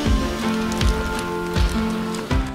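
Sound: rain falling

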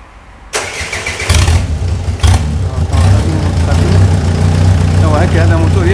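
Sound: Renault R19 diesel engine starting and idling outside the car

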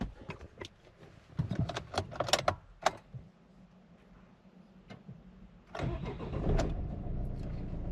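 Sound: Suzuki Grand Vitara 1.9 DDiS F9Q diesel engine starting

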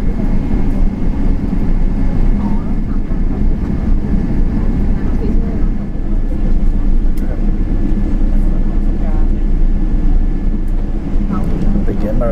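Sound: Thai Airways Boeing 777 taking off

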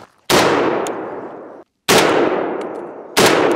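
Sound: gunshots from Hungarian designated marksman rifle

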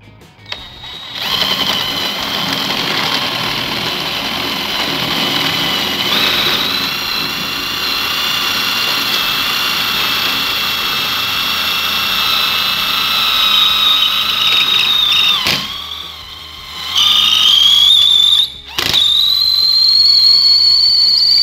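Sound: cordless drill drilling into concrete wall

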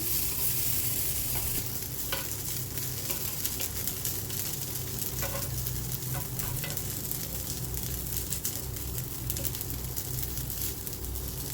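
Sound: frying sabudana appe after flipping them

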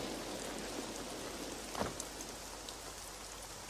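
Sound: rain

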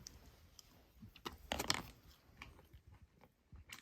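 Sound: biting into crispy food

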